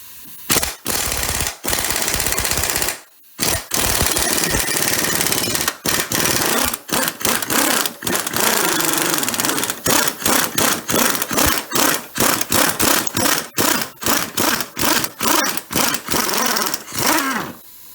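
Pneumatic impact gun rattling loose a 24 mm front suspension bolt on a 2002 Chrysler PT Cruiser wishbone, loud close-up bursts of hammering with short pauses between them, no talk.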